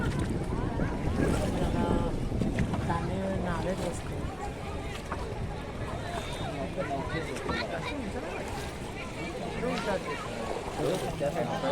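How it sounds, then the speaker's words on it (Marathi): Riding in a boat on the Chandrabhaga river at Pandharpur, with continuous water wash and wind buffeting the microphone throughout, fairly loud and close, and voices faintly mixed in. "बसलो बोटीत सफर करायला जातोय पूर्ण चंद्रभागेचा"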